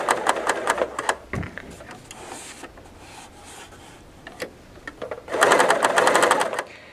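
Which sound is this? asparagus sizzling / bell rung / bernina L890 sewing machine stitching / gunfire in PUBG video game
bernina L890 sewing machine stitching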